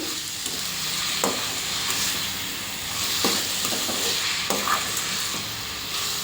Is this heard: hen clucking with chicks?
no